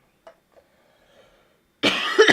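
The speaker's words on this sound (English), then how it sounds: "I have to cough." A few faint clicks and shuffles in near silence, then one loud, close cough bursts out at the end.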